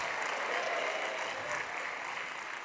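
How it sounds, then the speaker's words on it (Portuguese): Congregation in a church applauding, a dense steady wash of clapping that holds evenly at moderate level for the whole span with no speech over it. "Aplauda bem forte ao Senhor."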